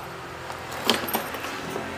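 A brief metallic jangle of keys near a Piaggio scooter at a used motorbike shop, a close, quick rattle peaking in one burst before fading, with no talk.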